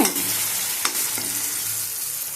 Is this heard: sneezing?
no